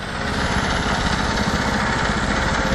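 A small generator engine running on HHO fuel idles at low RPM with a steady, continuous chugging hum, close and unbroken for the whole stretch, with no talk.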